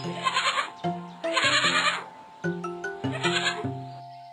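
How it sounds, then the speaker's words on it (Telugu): A baby goat in a cartoon bleats in several wavering, tonal calls, loud and close, with short pauses between the cries and no talking over them. "అరే అరే, ఇది మేకపిల్ల"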